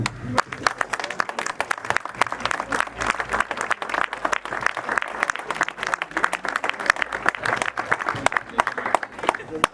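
Sustained audience applause at an inauguration of a new municipal services building, a dense wash of many hands clapping steadily for about ten seconds.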